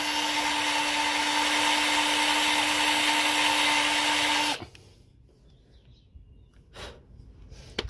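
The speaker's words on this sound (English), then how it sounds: "You drill into it." Power drill with a screw extractor bit boring into a rounded-off brake disc screw, a steady loud whine for about four and a half seconds that cuts off, followed by quiet handling noises.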